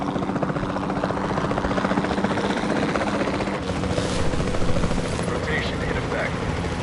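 Steady rotor drone of a helicopter in Jurassic World Evolution 2, a loud continuous whirring roar that swells slightly midway, with voices talking over it.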